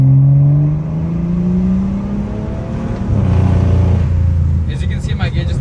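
BMW N55 car with a retrofitted B58TU fuel pump revving hard under acceleration, its engine note rising steadily and loud and close. A brief shift dip comes before the pitch climbs again, with faint talk under the engine.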